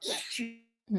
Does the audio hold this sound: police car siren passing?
no